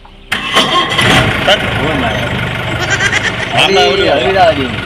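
A diesel vehicle engine cranks and catches with a sudden loud roar, then keeps running at a rough, steady idle while voices talk over it.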